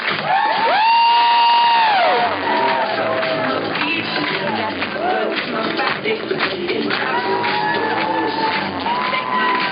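Wedding guests cheer, whoop and clap as the newlyweds are introduced, a loud continuous crowd roar with rising shouts and whistles layered over steady clapping throughout.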